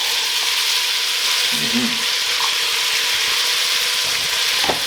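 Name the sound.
carrots sizzling as vegetables are added to the pot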